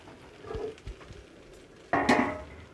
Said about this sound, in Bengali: এবার আমি এর মধ্যে যে ভেজে রাখা পটলগুলো সব দিয়ে দেব।